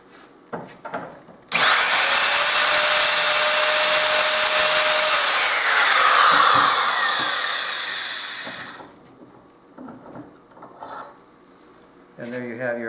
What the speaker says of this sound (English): Pop out the die head, pop in the Reg ST deburring tool,